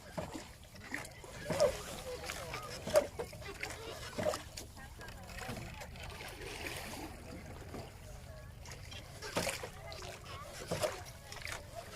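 A river boat moves through the water of Van Long wetland in Vietnam, among water lilies. Soft splashes and sloshing come and go at a moderate level, mixed with scattered human sounds.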